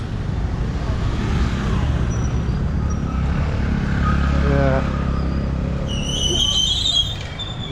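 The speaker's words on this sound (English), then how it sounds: "squeaky brakes" Squeaky vehicle brakes on a road in Nepal give a shrill, wavering squeal in the later seconds, heard over a steady rumble of engine and road noise.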